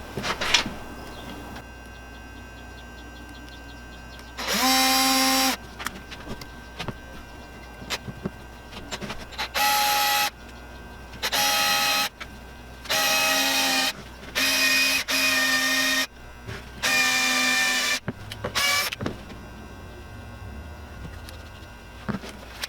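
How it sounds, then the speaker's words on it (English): A power drill bores a pilot hole through the wooden handle of a scrap-wood tortilla press, whirring in about six separate bursts of a few seconds each, close and loud, with quieter workshop noise between. "I'm going to drill a small pilot all the way through, and then a larger drill bit to fit in the bolt."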